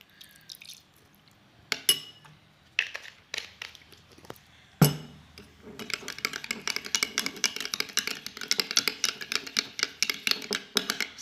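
Homemade face serum of rose water, glycerin and aloe vera mixed in a glass container, with scattered clinks and taps, then a dense run of quick, close, liquid ticking and clattering strokes.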